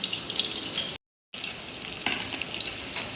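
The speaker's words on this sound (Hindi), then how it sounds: "अब ये सारे कबाब मैं इसको पैन में ऐसे ही डालूँगी" Cheesy kebabs sizzling and frying in a hot pan, a steady crackling hiss that cuts out briefly then resumes with louder spattering bursts, no talking.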